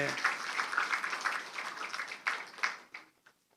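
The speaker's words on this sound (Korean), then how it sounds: "박수로 영광을 해주세요." A church congregation at a Sunday service gives a short round of applause that swells, then thins to a few scattered final claps.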